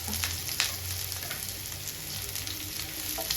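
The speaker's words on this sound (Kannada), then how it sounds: "ಎಣ್ಣೆ ಕಾದಿದೆ ಆ್ಯಂಡ್ ಇದಕ್ಕೆ ನಾನು ಒಂಚೂರು ಈರುಳ್ಳಿ ಆ್ಯಂಡ್ ಕರಿಬೇವು ಹಾಕೊಳ್ತಾ ಇದ್ದೀನಿ" Small sambar onions and curry leaves fry in hot oil; a close, steady sizzle crackles on with a few sharper pops and faint stirring scrapes, with no talk.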